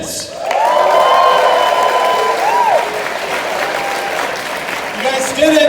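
A graduating class at a senior banquet breaks into loud, sustained applause with cheering and whoops, and a few voices carry through the crowd noise.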